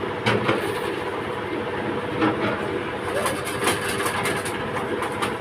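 Two mustard oil expeller machines, one a 22-inch expeller, run together on 5-horsepower gear motors, making a steady loud mechanical rumble with rattling clatter and occasional knocks.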